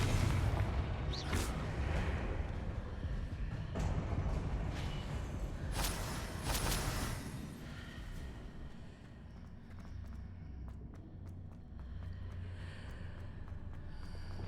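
A Confringo blast spell in Hogwarts Legacy: loud, rumbling explosive bursts over a dense noisy game background, with a sharper crackling flare partway through before the sound settles into a softer hiss.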